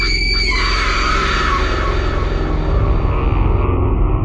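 A loud, sustained scream rings out from inside a haunted school at night, one long piercing shriek that holds steady before trailing off, heard alone with no talking.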